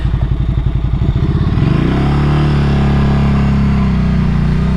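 A 2024 Ducati Scrambler motorcycle engine burbles up close, loud and throaty, with a pulsing rev for the first second and a half before settling into a steady, deep rumble.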